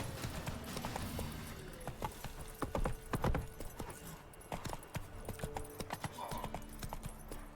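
Roach the horse's hooves clip-clop steadily on the ground in The Witcher 3, a close, rhythmic trotting with a few louder thuds and a faint whinny.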